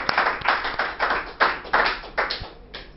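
Clapping at an anniversary celebration for 20 years of Stillborn, a handful of distinct, close claps in a fairly regular rhythm, sparse rather than a full crowd roar, tapering off near the end.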